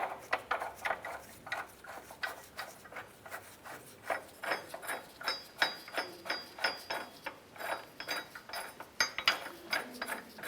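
A ratchet drives a bolt into an Acura TL transmission mount bracket, giving steady rhythmic clicking strokes one after another, close and moderately loud.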